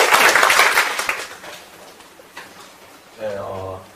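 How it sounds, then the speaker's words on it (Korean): Brief burst of audience applause at a Korean Bitcoin talk event, dense clapping for about a second and a half that fades into quieter room noise, followed by a faint tonal sound near the end. "여러분 큰 박수로 환영해 주셨으면 감사하겠습니다."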